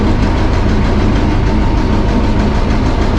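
A workboat engine runs slowly and steadily while towing a small raft on the water, giving a continuous low rumble that stays even and fairly loud for the whole stretch.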